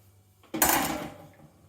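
One close, fairly loud clatter and swoosh as drained pasta is tipped into a bowl for pasta chips, with the noise fading over about half a second.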